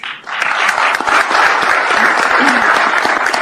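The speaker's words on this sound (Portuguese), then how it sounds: "Plateia aplaude." An audience at a Brazilian bar association (OAB) event applauds after a speech, with loud, sustained, dense clapping that rises quickly and holds steady throughout.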